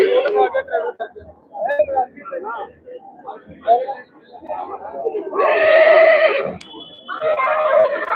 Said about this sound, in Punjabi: ਐਂਟਰੀ ਹਜੇ ਘੋੜਿਆਂ ਦੀਆਂ ਹੋਣ ਲੱਗੀਆਂ ਨੇ